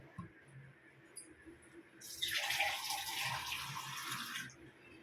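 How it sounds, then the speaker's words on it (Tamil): Water pours in a steady stream for about two seconds into a pressure cooker with rice, fairly close, after a quiet start with faint background noise. "அதனால் ஒன்றரை டம்ளர் தண்ணி ஊற்றிக்கிறேன்"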